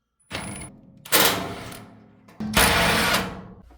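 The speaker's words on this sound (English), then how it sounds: "Use the 14mm socket to loosen both rear nuts." A 14mm socket on a power tool loosens the rear nuts of a Maytag dryer, two loud whirring mechanical bursts a few seconds apart, close and harsh.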